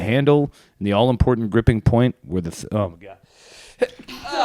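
Someone on a podcast lets out a loud, sharp sneeze in the middle of the conversation, with people talking just before and after it.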